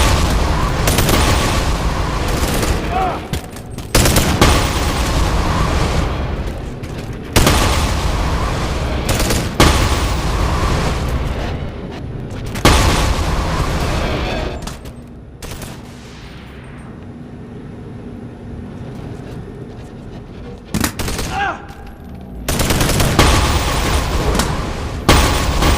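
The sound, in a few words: shotgun firing in video game Bonelab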